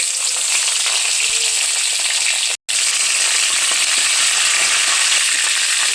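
Mustard seeds, fenugreek, cumin and garlic cloves sizzle loudly in hot oil, a dense, steady frying hiss with scattered pops, cut by a brief dropout midway.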